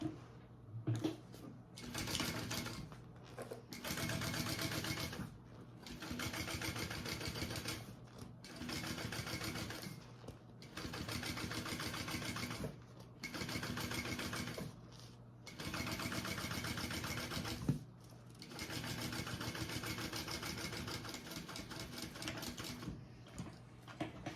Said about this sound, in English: flip it up and we'll top stitch